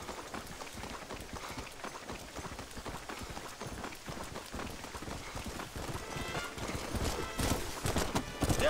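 Horse hooves galloping in the video game Red Dead Redemption, a steady rapid clip-clop with game ambience and rain-like texture, growing louder and busier toward the end, no speech.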